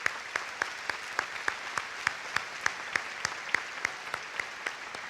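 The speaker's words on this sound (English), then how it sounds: "Let's give these guys a round of applause." A commencement ceremony crowd applauds steadily, a dense wash of many hands clapping at moderate distance, with sharper individual claps popping out in a fairly even rhythm throughout, no voices on top.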